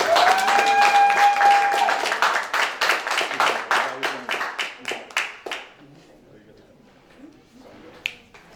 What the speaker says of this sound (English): Applaudissez s'il vous plaît pour Ulna.